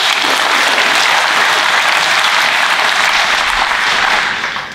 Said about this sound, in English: we can still give them a round of applause